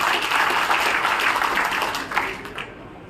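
Loud, dense applause from an audience at a live public event in Rewa with a Rajya Sabha MP, a steady wash of many hands clapping that eases off toward the end.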